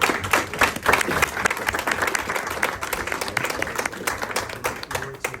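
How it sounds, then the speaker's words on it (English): Audience applause for an outgoing mayor at a New Jersey township council reorganization meeting, a steady wash of many hands clapping that runs throughout and fades slightly at the end. "Everybody give him a round of applause."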